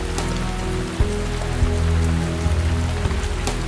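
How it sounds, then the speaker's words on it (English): Steady rain pours down in an Australian forest, a dense continuous hiss with a few sharper drops standing out, loud and close with no voices. "When the rains come, koalas don't move out of their trees."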